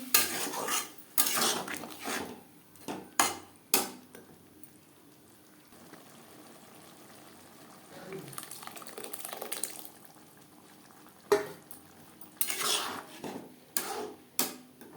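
Boiled dal added to a pot of vegetables and stirred: sharp metal spoon clanks against the pot in bursts, separated by quieter wet sloshing and stirring, close by with no speech.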